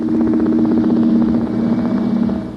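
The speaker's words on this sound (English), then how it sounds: "This is the sound of the spacecraft while it cruised in deep space several million miles from the planet." Recorded drone of the Voyager 1 spacecraft cruising in deep space, a steady low mechanical hum with a pulsing, engine-like throb that stays loud and continuous, easing slightly toward the end.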